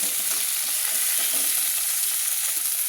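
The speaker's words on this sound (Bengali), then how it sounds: "টমেটোগুলো আমি ভালো করে তেলের মধ্যে ভেজে নেব যাতে গলে যায়" Tomatoes fry with onions in hot oil, a loud dense continuous sizzle with faint stirring clicks underneath, no talk.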